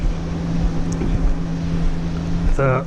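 A Ford Ranger engine idles with oil engine flush added, giving a steady low hum with a constant tonal drone that carries throughout, and a brief rising whine near the end.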